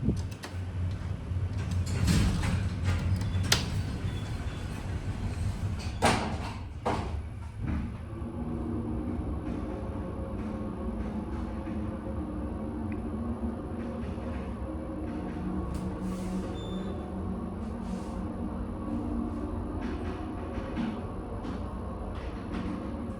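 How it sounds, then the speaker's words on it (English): The motor of a modernized Montgomery Kone hydraulic elevator hums steadily and quietly throughout, with a few clicks and knocks near the start and faint ticking over the low drone. "That is one sounding motor."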